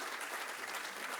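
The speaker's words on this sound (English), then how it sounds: "huge round of applause for these two wonderful people." Audience applause fills a hall at an awards ceremony in Delhi: a quiet but steady wash of many hands clapping, continuous and even throughout the short moment.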